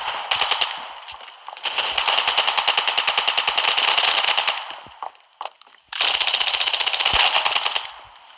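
Automatic weapons fire in the mobile shooter Standoff 2, long rapid bursts of close, loud gunshots with a brief gap of scattered single shots between them.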